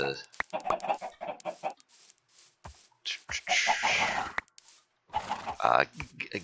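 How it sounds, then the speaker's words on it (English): Lots of Minecraft chickens cluck and squawk in a busy chorus, with sharp clicks and a louder burst of squawking partway through. "Wow, yeah, this is a lot of chickens."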